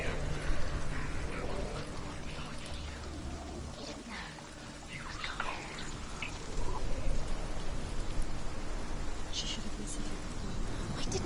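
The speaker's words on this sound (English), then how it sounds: "It's raining, but I don't see no splashes in the water as puddles to show that the rain's making an impact." Rain falls in the video game Hellblade: Senua's Sacrifice, a continuous hiss of pattering drops at moderate loudness throughout, with faint bird calls.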